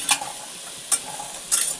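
Vegetables sautéing in a pan with pav bhaji masala, three short bursts of scraping stirring with a soft sizzle between them, close and alone.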